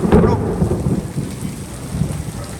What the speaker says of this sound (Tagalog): Pagbasak ng ulan. At siguro yan po. Kumigidlat pa po.